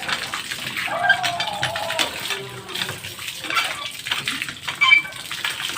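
Water gushes from a Jetmatic hand pump in irregular surging bursts, splashing and splattering close by, with a faint voice in the background.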